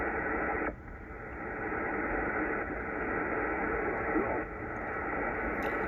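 Steady band noise hiss from a Kenwood TS-890S amateur radio receiver, with the preamp on, continuous and fairly loud, with slight dips in level and no talking.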